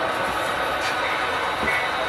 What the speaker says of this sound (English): Little short train's gonna take the route next there, so it switched signals on the tracks.